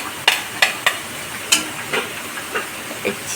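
Ground ginger paste added to a hot pan for a paneer, potato and pointed gourd curry, with several sharp spatula clacks and a steady sizzle underneath, close and moderately loud, no talking.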